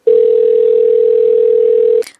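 A steady telephone dial tone hums continuously for about two seconds, loud and close, then cuts off with a short click.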